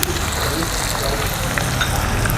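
Onion, ginger and green chili fry with mustard seeds in a hot pan, giving a dense, continuous close-up sizzle.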